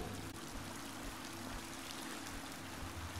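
Soft, continuous rushing and trickling of a waterfall at a cave entrance in Skyrim's Falskaar area, a faint, steady wash of water with no voices.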